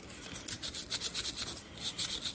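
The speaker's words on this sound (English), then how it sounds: "take a little bit of sandpaper and rough up the edges, rough up the metal before you're painting it" Sandpaper rubs back and forth over the metal edges of a model horse cart frame, a close, soft rasping in quick, even strokes with no talking.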